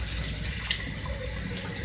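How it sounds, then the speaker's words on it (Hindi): A cup of water is poured into a pan of cooking potato and eggplant curry, giving a soft, steady splashing and trickling for about two seconds, fairly quiet and with no voices. "अब मैं इसमें थोड़ा सा पानी जो है और ऐड करूँगी, इसको मज़ीद जो है कुक करने के लिए 1 कप।"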